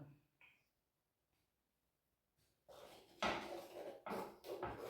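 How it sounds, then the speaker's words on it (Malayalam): Mango pulisseri stirred in a clay pot, scraping and clattering strokes starting partway through after a near-silent stretch, fairly close and moderately loud. "ഒരല്പ സമയം കൂടെ നമുക്ക് ഇളക്കിക്കൊണ്ടിരിക്കാം."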